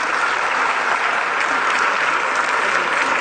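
An audience at a university town hall meeting for presidential candidates gives sustained, dense clapping, a loud, even roar of applause with no break throughout.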